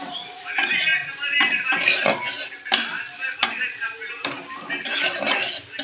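Bitter gourd frying in oil in a pan with turmeric and salt, utensils scraping and clinking against the metal as the pieces are stirred, with a soft sizzle underneath and no talking.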